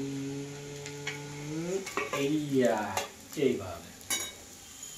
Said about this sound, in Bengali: এবারে আস্তে আস্তে করে আমি তেলটা ছাঁকছি।